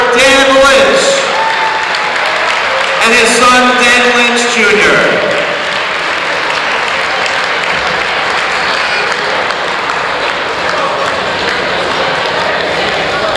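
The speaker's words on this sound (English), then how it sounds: "Let's have a final round of applause" A crowd at a St. Francis College basketball game against Bryant on senior day breaks into sustained applause and cheering that fills the arena, with an announcer speaking over the PA at the start.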